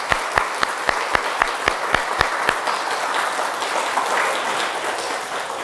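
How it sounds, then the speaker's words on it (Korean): Church congregation applauding at a Sunday worship service, a dense, steady wash of many hands clapping that stays loud throughout, with a few sharp, evenly spaced claps standing out near the front early on. "힘찬 격려의 박수 한번 칩시다"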